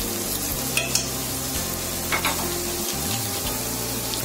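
Garlic-ginger paste with spices and dried fenugreek leaves sizzles and is stirred in a pan for a jackfruit curry, with a loud steady fry and occasional scraping strokes of the spoon, without talk.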